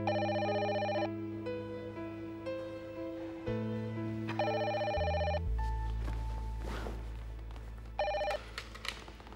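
A telephone rings in a domestic drama scene, repeated bell-like ring bursts over a steady background music bed, loud and close with pauses between rings.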